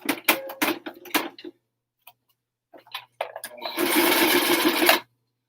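A sewing machine runs a zigzag stitch on a narrow width setting, joining the ends of a piece of elastic: a steady, close mechanical whir of about a second and a half after short bursts of stitching and some handling noise.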